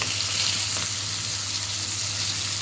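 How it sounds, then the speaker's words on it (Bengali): Rupchanda pomfret fish fries in a pan after being flipped, giving a loud, steady, close hiss of sizzling oil with no pause. "এক পাশ ভাজা হয়ে গিয়েছে আর এক পাশ এখন উল্টে দিয়েছি।"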